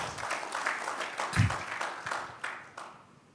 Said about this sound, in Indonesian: Tepuk tangan lagi bagi Tuhan Yesus